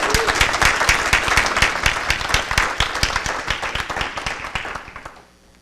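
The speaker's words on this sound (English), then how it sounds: "So if you'll give them a round of applause." Short burst of applause at a school district board meeting honoring administrative staff, brisk clapping from a modest group that thins out and trails off after about five seconds.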